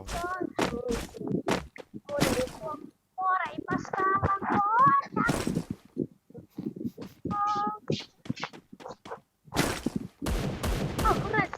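Gunshots crack in the mobile battle-royale game Free Fire, coming in short rapid bursts between stretches of excited talk from players.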